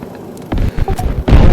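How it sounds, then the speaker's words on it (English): Two vehicles exploding in a video game, a deep boom bursting in twice, with a heavier blast at the end, close and loud. "They both blow up? I think they both blew up"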